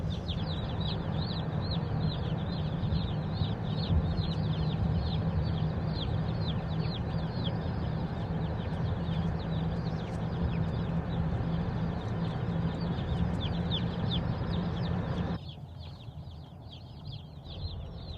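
Newly delivered chicks in a shipping box peep constantly and shrilly as a dense chorus over a steady low rumble, likely from a vehicle, which quiets abruptly near the end while the peeping goes on.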